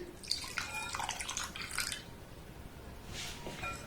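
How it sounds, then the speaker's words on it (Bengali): A bowl of thickened boiled milk at room temperature is poured into eggless Bapuji cake batter, making soft, faint liquid splashing and dribbling in two short bursts with light clinks from the bowl, quiet and without talk. "এবার এখানে দিয়ে দেবো একই বাটি মাপ করে এক বাটি ঘন করে জাল দিয়ে নেওয়া দুধ"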